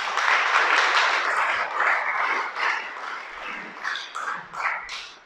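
A church congregation claps and cheers in praise during a Sabbath sermon, loud at first then tapering into uneven bursts with voices rising over it.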